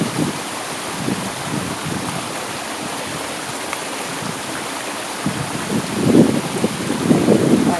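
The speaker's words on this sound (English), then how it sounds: "it's a little windy here," Wind blowing outdoors, a steady broad rushing with stronger low gusts buffeting close by near the end, no voices.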